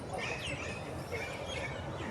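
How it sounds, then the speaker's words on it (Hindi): Small birds chirp and tweet at Lahore Zoo, with brief high calls scattered over a dense, steady background of rustling noise. "उसके अलावा यहाँ पे भी कुछ परिंदे हैं छोटे छोटे"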